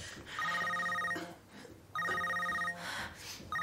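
A telephone rings for an incoming call, two long electronic trilling bursts separated by a short pause, fairly close and clear, with another ring starting at the end.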